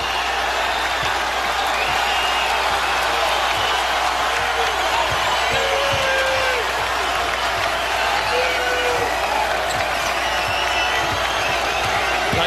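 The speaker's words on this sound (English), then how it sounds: "Here comes the crowd at the Rock." Basketball crowd at the Rock arena during a close Seton Hall versus Louisville game, a dense sustained roar of cheering and applause with occasional whoops, steady and loud throughout.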